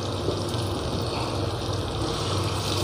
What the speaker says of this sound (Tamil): மிக்ஸி ஜாரையும் கழுவி கொஞ்சம் தண்ணி தேவையான அளவுக்கு நம்ம சேர்த்துக்கலாம்.